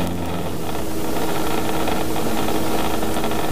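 Robinson R22 helicopter engine idling at reduced power during a practice engine failure, a steady, loud, close drone with a broadband hiss and a low rumble that holds without a break.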